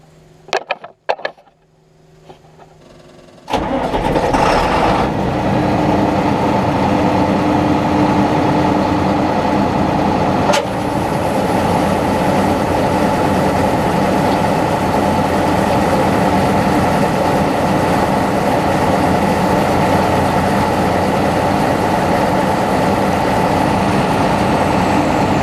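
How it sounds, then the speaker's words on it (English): A combine harvester engine starts after a few clunks and settles into a loud, steady roar with the unloading auger running. The drone holds constant for a long stretch with one sharp knock partway through, and no talk. "I'm going to get up in the combine and start it up and run this auger"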